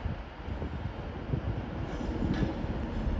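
A passenger train departs Carlisle station for Glasgow Central, a low rumbling roll of wheels and engine building slightly in loudness, heard fairly near with no talk.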